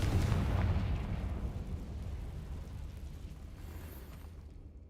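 A Confringo spell blast in Hogwarts Legacy, a single deep explosive boom at the start that rumbles and slowly fades over several seconds, fairly faint.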